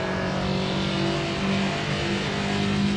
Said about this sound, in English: Very tiny engine